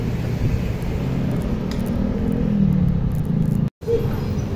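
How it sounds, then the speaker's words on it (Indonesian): A car on a narrow single-lane road passes close, heard as a steady low rumble throughout with a brief dropout near the end; no clear talk. "Awas, mobil belakang."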